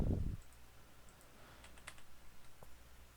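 Sparse, faint keyboard taps as Revit shortcuts are typed, a few quiet clicks scattered after a brief low thump at the start.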